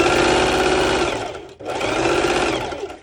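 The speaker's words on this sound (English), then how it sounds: "the setting on my sew machine is on the longest stitch, and I just sew through it" Sewing machine running loud and close on its longest stitch setting, two steady motor bursts separated by a brief pause near the middle, no voices.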